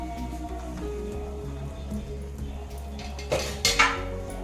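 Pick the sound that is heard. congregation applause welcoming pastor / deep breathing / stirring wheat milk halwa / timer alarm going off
stirring wheat milk halwa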